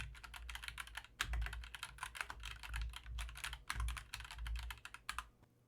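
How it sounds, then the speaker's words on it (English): Someone types on a mechanical keyboard placed in front of a budget USB microphone. The keys make rapid, dense, clicky strokes in irregular bursts, close and fairly clear, with no voices. "here's the pickup of a mechanical keyboard placed in front of the microphone"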